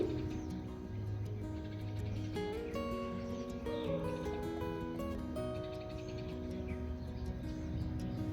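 Sparrows chirp and twitter in short, repeated bursts over a steady background hum, fairly close and moderately loud.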